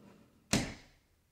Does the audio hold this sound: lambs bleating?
no